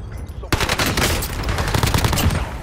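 Rapid automatic gunfire in a battle-royale video game begins abruptly and keeps up as dense bursts of shots, loud and near.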